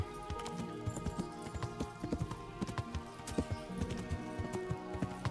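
Horses clip-clopping on the ground in the medieval game Kingdom Come Deliverance, a steady rapid rhythm of hoof strikes throughout with a brief whinny, close and clear amid faint ambience.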